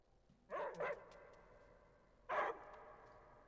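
Dogs barking in the video game Die Young, two quick barks followed by a single louder bark a moment later, fairly close and clear over a quiet background.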